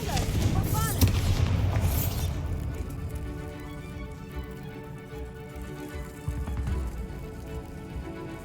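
Bombarda blasts cast in the Hogwarts Legacy video game, with a heavy booming burst and rumbling debris early, then a fading tail under game music.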